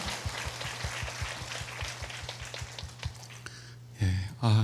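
Congregation applause welcoming the middle school, high school and college youth groups at a Friday night church service, a dense steady patter of clapping that thins out before a voice speaks over it at the end.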